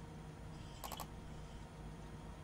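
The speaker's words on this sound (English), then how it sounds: "I use the keyboard" A quick burst of computer keyboard typing, three or four close, crisp keystrokes in a row over a quiet background hum during a Train Simulator 2016 session.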